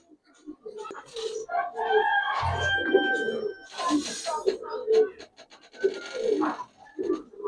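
Jabra pangkhi silver and red-footed pigeons coo softly in a seller's loft, with low rolling calls running beneath someone talking steadily nearby.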